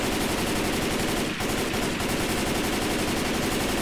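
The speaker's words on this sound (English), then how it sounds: "I think they took the same M16 from Left 4 Dead 1 and just put it in here." Sustained automatic fire from an M16 assault rifle in Left 4 Dead 2, a dense, continuous rattle of rapid shots filling the whole stretch at steady loudness, with only a brief dip midway.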